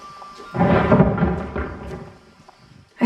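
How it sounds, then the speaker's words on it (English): Deep rumbling thunder in the video game What Remains of Edith Finch, swelling into a loud roll that fades over a few seconds, with hints of rain in the background. "I thought that was a thunder."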